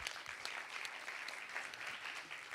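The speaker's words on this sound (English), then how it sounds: "would you please give yourself a big round of applause" Audience applause at a corporate conference and launch event: steady, dense clapping from a large crowd, somewhat distant and even in level, with no talking.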